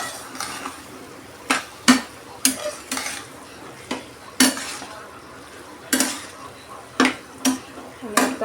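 Okra curry is stirred and mixed in a pan, with a spoon knocking and scraping against the metal in an irregular series of sharp clinks over a faint background hiss.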